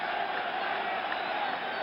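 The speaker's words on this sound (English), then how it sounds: "Crowd roaring his name, roaring for the Yankees" Baseball crowd at Yankee Stadium during a 1977 World Series game against the Dodgers, a steady dense roar of voices and cheering filling the whole moment without a break.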